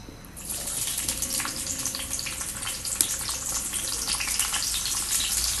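Shallots and garlic fry in hot coconut oil in a home kitchen with a loud, close, continuous sizzle and crackle and a few small pops, and no voices.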